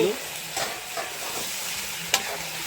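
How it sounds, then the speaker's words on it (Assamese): Frying chicken curry sizzles steadily in a pan as potatoes are tossed in, with a few stirring scrapes and one sharp clink of a utensil against the pan. "এয়া যোগাৰীয়ে দিব এতিয়া আলু"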